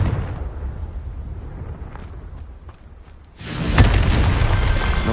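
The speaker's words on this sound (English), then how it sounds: "Confringo! Revelio! Confringo!" A Confringo fire spell in the game Hogwarts Legacy bursts into a heavy rumbling explosion, loud and sustained, with a fresh blast surging in partway through over a continuous roaring background.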